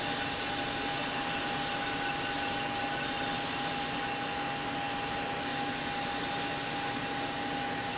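A machine cuts a slight one-degree angle into the cylinder of a mold stripper plate, producing a steady, loud machining drone with a sustained tonal whine and no break over the whole stretch.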